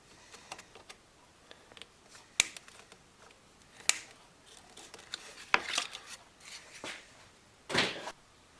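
A blade snips and pulls at the protective covering on a car's headlight wire. The quiet scene is broken by a handful of sharp clicks and snaps plus brief rustling cuts, spaced irregularly.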